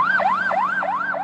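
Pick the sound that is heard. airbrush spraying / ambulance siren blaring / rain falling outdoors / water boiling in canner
ambulance siren blaring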